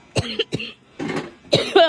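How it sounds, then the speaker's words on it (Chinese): A child coughs several times in quick, short bursts, close and clear, at home in a village while sick with a cold. "咳嗽。"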